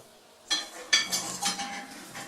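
A spoon stirring pre-sifted flour, added bit by bit, into a cookie mixture in a bowl: several clinking, scraping strokes against the bowl in uneven succession, close and fairly loud, no talk.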